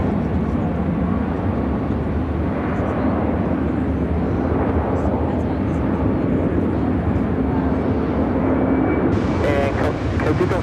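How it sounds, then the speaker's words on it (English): An A330-200 freighter takes off from Chicago O'Hare bound for Atlanta, a continuous rumbling engine roar at moderate distance, with a voice talking briefly near the end. "Cargo 6551 taking off to Atlanta on the A330-200 freighter."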